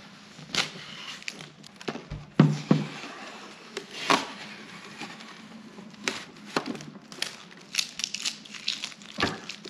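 Crinkling plastic wrapper peeled off a Hershey chocolate candy treat, with a cluster of sharp crackles near the start and scattered crisp rustles and clicks throughout, close and moderately loud with no talking.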